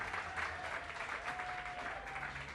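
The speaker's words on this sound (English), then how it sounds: "Give her a big round of applause." A crowd claps steadily at an apartment grand opening press conference, a sustained even round of applause heard from a moderate distance with a faint tone running beneath it.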